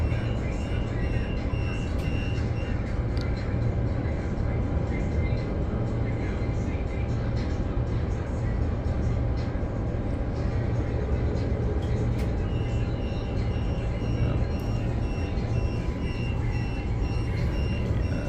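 Steady rumble and rattle of a moving Transperth commuter train between Joondalup and Perth, a continuous low roar with faint beeps above it, heard from inside the carriage.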